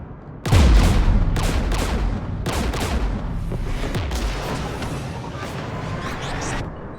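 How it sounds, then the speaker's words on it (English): Enemy Geth open fire in Mass Effect Legendary Edition: a heavy blast kicks off a run of loud, rapid gunfire bursts that crackle and echo, easing slightly toward the end but continuing to the close. "We're taking fire."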